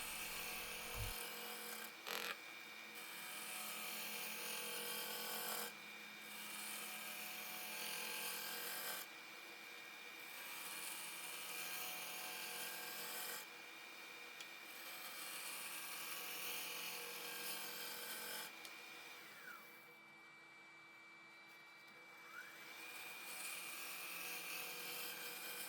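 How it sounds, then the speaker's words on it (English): A spindle roughing gouge cuts wood on a spinning lathe, giving a continuous rough scraping whir broken into repeated passes by brief pauses. "I'm now using my spindle roughing gouge just to get everything true and round."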